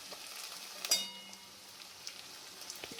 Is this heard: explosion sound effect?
no